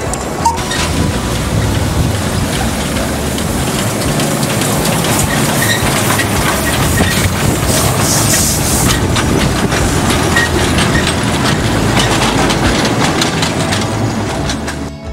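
Rail cars on a backyard dacha railway with sprung wheelsets roll loudly along the track in a steady rumbling roar, with rhythmic clacking of wheels over joints throughout.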